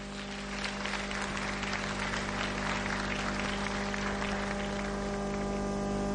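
Sustained applause from a television event audience honoring past and future Miss contestants, steady broadband clapping filling the room throughout with no voices above it.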